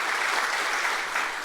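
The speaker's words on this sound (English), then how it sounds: "Let's give him a round of applause." Audience clapping at a ribbon cutting ceremony for a new university engineering building, a brief dense burst of steady applause from a crowd, with no voices over it.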